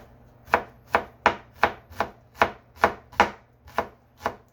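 A knife chops a shallot thinly on a cutting board for homemade salsa, making about ten crisp, evenly spaced knocks in a steady rhythm, close and clear, with no talking.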